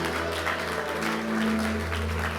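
A church congregation applauds in a dense, steady wash of clapping, mixed with a sustained musical drone underneath, fairly loud and continuous throughout.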